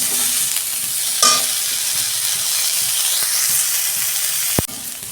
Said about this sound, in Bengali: ওই তেলে আমি কপিগুলো ভেজে নেব। কপিটা আমি 2 মিনিট ভেজে নেব।